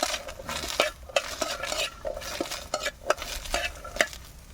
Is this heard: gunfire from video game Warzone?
no